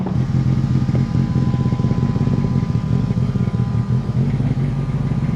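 Inside a classic Mini at a Sandown sprint on the Isle of Wight, the engine drones steady and loud in third gear, a continuous close cabin roar with no break in the tone.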